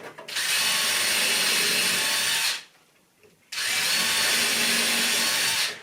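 A power drill bores holes for a homemade TV wall bracket, two long, loud, steady whirring runs split by a brief quiet pause, close up with no talking.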